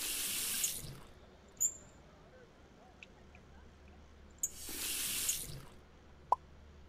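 Tap water gushes into a big cooking pot at a kitchen sink in two strong bursts, with small clinks and drips in the quieter gap between them.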